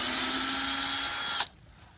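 A power drill whines loudly and steadily as it drives into a truck camper roof panel on a DIY popup camper build, then cuts off abruptly near the end.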